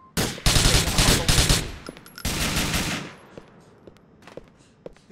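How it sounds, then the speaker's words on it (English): Bursts of rapid automatic gunfire from an assault rifle in GTA 4, loud and close, with two sustained volleys followed by scattered fainter shots and clicks as the firing dies away. "I'll be taking out the machine gun. The assault rifle."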